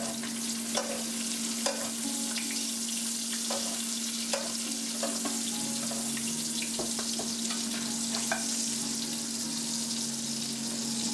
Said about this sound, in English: just baste the meat with this garlic and butter sauce while it's cooking